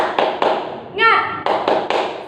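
A group of children claps a rhythmic cheer clap in a classroom lesson, several sharp in-unison claps in steady beats broken by a brief spoken cry in the middle, close and fairly loud.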